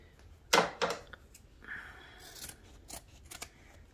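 Scissors snip through felt close up in a quiet room, two crisp cuts followed by softer slicing and a few light clicks of the blades, no talking.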